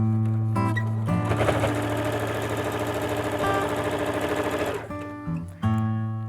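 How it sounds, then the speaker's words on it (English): A sewing machine runs a line of top stitching across a dungaree strap, a close, steady rapid chatter lasting several seconds, with a motor hum before and after. "We're then just going to do a line of top stitching, up to you whether you do 1 or 2, across the top"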